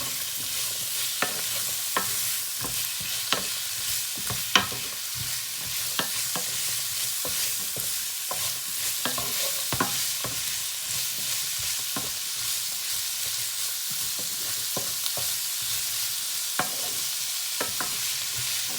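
Carrots, green beans and other vegetables being stirred in a frying pan: a constant close sizzle broken by regular spatula scrapes and clicks, with no voices.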